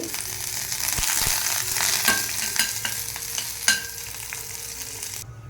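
Cumin seeds and dried red chillies sizzle and crackle in hot oil in a home kitchen pan, a steady close frying hiss with occasional spoon scrapes and small pops, no talk.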